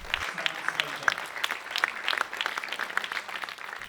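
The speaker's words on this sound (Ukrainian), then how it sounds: "Після титрів зала вибухнула оплесками" Scattered applause from an audience in a Berlin cinema hall after the credits of a Ukrainian war documentary, uneven clapping with a mix of sharp individual claps at moderate distance, filling the whole stretch.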